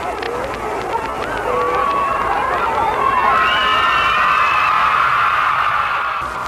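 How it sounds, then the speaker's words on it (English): Crowd of children cheering and screaming as a royal train arrives in 1939, a loud, rising wave of shrill voices and whoops that swells and holds near the end. "I'm sure you can hear those cheers of the children that are completely drowning out the music of the band."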